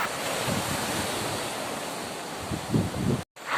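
Sea waves wash steadily on a provincial coast, a loud, continuous roar of surf with swells rising and a brief cut near the end, with wind buffeting the mic and no talk.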